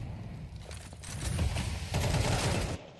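Rapid bursts of gunfire in a Counter-Strike match, dense automatic fire swelling and cutting off, loud and close with no clear talk over it.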